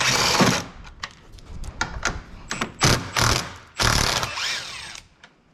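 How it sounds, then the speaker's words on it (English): A ratchet backs out the 10mm top headlight bolts on a 2022 Ford F-350 King Ranch, giving several short bursts of close, crisp clicking separated by brief pauses. "we're gonna go ahead and release the 10mm bolts off the top."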